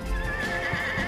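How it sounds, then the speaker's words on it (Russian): White horse in the video game Scribblenauts Unlimited neighing, a single sustained whinny with a wavering tone, clear and up front with no speech. "белая лошадь. Белая лошадь."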